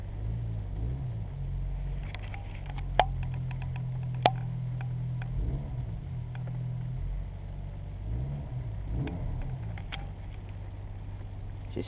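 A Pontiac Sunfire 2.4 L engine idles steadily just after a cold start with 237,000 km on it, a low even rumble with faint ticking and a couple of sharp clicks, no talk.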